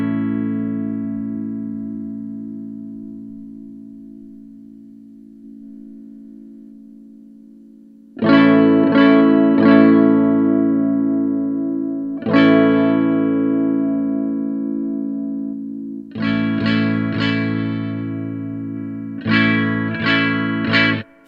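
Electric guitar through a Supro Airwave amp with its EQ bands boosted and cut, first a long sustained chord fading out, then bursts of strummed chords with sharp attacks and ringing decay.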